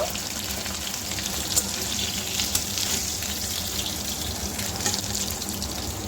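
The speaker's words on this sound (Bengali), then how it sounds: "মাছগুলো প্রায় আমার সব ভাজা হয়ে গেছে" Pieces of katla fish frying in hot oil for a doi katla dish: a steady, dense sizzle and crackle that runs unbroken throughout, close and fairly loud, with a few sharper pops.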